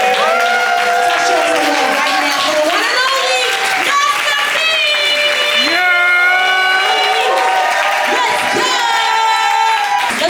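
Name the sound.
audience clapping and cheering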